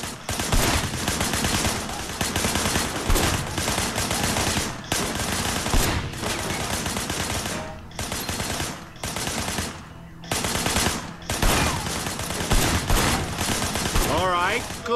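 Continuous gunfire in the Sleeping Dogs video game, with rapid bursts of shots and repeated loud volleys filling the scene, interrupted by brief pauses, and a voice speaking over parts of it.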